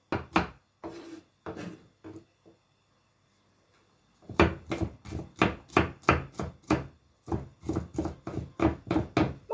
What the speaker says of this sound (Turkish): Domateslerim ocakta kaynarken ben de sarımsaklarımı doğrayayım.